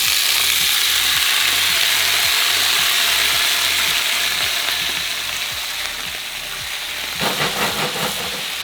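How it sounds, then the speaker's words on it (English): Home fried potatoes sizzle steadily in hot oil, a loud, dense frying hiss running throughout, with scraping and stirring clatter toward the end. "We're getting ready to add the potatoes, the home fried potatoes,"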